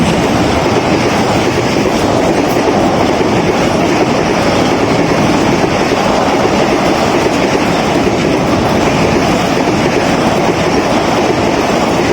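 Business Express 6311 passenger train passing on rails, a steady, loud rumble with continuous clickety-clack of wheels over the rail joints, sustained and close throughout with no talk.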